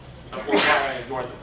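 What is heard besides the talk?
sneeze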